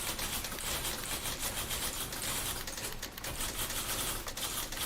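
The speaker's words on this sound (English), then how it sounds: "Oh, typewriters." Clacking typewriters in a video game, a dense, continuous burst of rapid mechanical keystrikes and clatter filling the whole stretch at moderate loudness with no voices.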